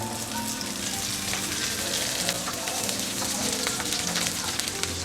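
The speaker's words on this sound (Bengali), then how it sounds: "গোটা রসুনগুলি দিয়ে দিচ্ছি" Whole garlic cloves fry in hot oil over a low-medium flame, crackling and sizzling steadily up close with small scattered pops throughout.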